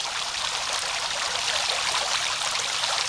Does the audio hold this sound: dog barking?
no